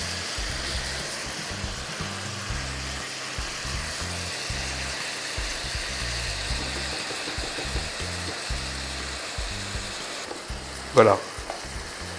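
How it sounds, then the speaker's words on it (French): Beef cut into small cubes sizzles steadily as it sears briefly in a hot pan for soy-marinated beef, a continuous frying hiss throughout with a short louder clatter near the end and a brief word spoken. "Là, on va faire juste à peine saisir la viande."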